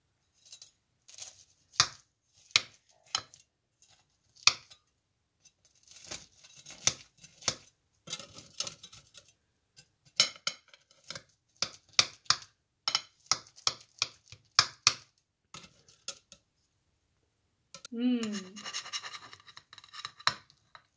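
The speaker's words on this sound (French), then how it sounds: "Je vais vous découper en morceaux" A knife cuts a golden, well-browned baked hachis parmentier into portions, giving repeated close scraping and chopping strokes against the dish in an irregular rhythm, with no talking.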